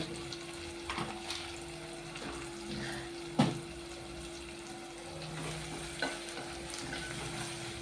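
Onions frying in a pan of oil with a pinch of salt, a steady soft sizzle with occasional stirring scrapes and a sharper clatter midway, fairly quiet throughout.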